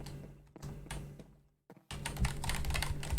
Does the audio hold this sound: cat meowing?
no